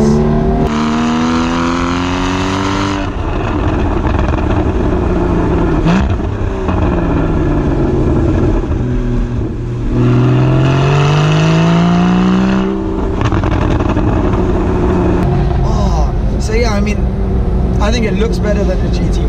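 Porsche Boxster Spyder driven with the roof down on a California road, a loud continuous engine note rising and falling through revs and gear changes, close and steady throughout, with talk over it.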